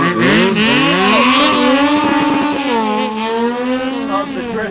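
Drift cars slide around Barber Motorsports Park, with loud high-revving engines wailing and rising and falling in pitch as tires squeal through the turns.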